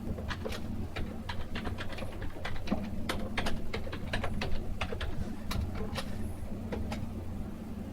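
Rapid clicking of computer keys as a search query is typed, irregular taps close by over a steady low electrical hum, with no voices.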